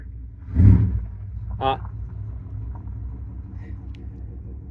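A 1993 Pontiac Firebird, recently repaired for battery and ignition module faults and suffering a kill switch failure, runs with a steady low close-up idle rumble, a loud thumping surge near the start and a brief rattling clatter soon after.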